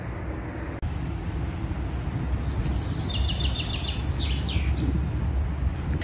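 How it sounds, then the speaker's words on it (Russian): Birds chirp and trill in an open paved area in front of a church in a city, with bright repeated tweets over a steady outdoor hum, fairly near and clear. "Птички поют."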